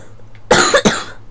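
Two sharp, harsh coughs from a Left 4 Dead 2 character close by, one right after the other, following a brief quiet moment.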